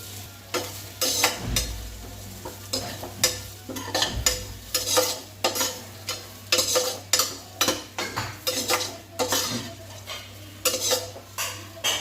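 Fennel, cumin and red chillies sautéed in a pan, a spoon stirring and scraping in a steady rhythm of close, sharp clinks over a gentle sizzle and low hum, with no voices.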